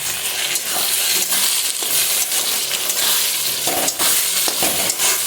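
Chicken frying in a hot pan for a home-style Bengali chicken kosha, with a loud, steady sizzle, crackling pops and occasional stirring scrapes throughout.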